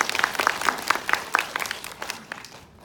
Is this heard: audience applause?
yes